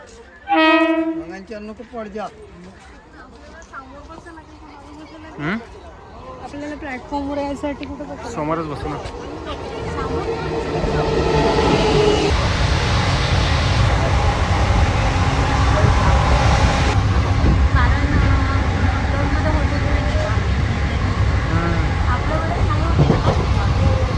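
A train horn sounds at the start, then a passenger train stopped at Wardha rumbles and roars steadily, growing louder and constant, with voices heard early on.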